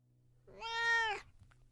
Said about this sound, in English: The sound of a cat almost had me laughing with relief.